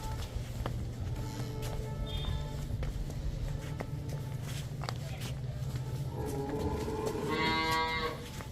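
Cattle on a dairy farm where cows are being sold, with a cow lowing loudly near the end over a steady hum and background chatter; footsteps and faint voices run throughout.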